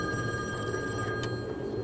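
A public payphone rings with a steady electronic trill, close and clear against faint room noise, with no talking.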